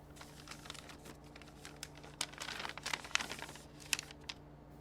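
A paper envelope torn open by hand, with a series of crisp rips and crinkles that build in the middle and end with a few sharp tears, close and fairly quiet.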